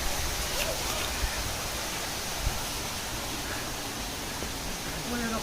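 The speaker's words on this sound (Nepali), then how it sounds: "हामी यो 3 तले झरनामा आइपुगेका छौँ" A three-tiered waterfall pours continuously, a dense, even roar of rushing water close by with no breaks and no voices over it.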